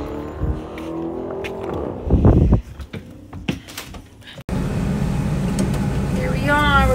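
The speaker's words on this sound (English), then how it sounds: "So I'm gonna back up the bus in my driveway" A person talks, with a few knocks and thuds in between. Then a bus engine rumbles steadily nearby as it reverses into a driveway, and a rising whine creeps in at the end.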